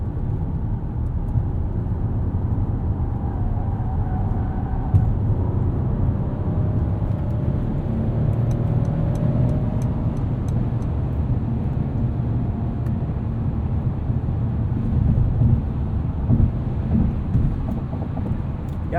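A 2021 Mercedes-Benz E450 4Matic sedan on the move, heard from inside the cabin as a steady low engine and road rumble that holds evenly throughout with no talking.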